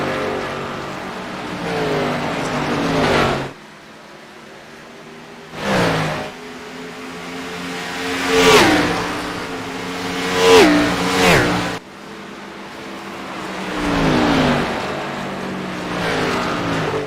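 Race cars circling a track at full speed in a racing-league round from Nashville, engines roaring past in repeated swelling and fading passes, some close and loud, others farther off, with no talking.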